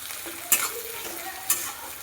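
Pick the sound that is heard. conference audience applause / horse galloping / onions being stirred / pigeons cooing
onions being stirred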